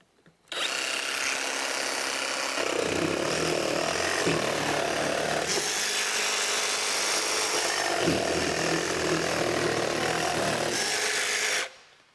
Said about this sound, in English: Let's go ahead and click it all the way up into its full orbital mode, see if we can get even faster.